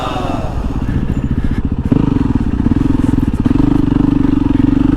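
A 450 dirt bike with a Rekluse clutch chugs at low revs over technical terrain, its engine thumping close and loud throughout amid faint clatter and scraping.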